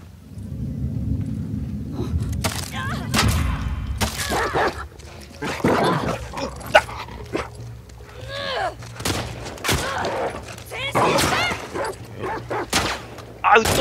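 Dogs barking in The Last of Us Part II, sharp barks and whimpers scattered among gunshots and combat noise, loud and close, with a player talking over parts.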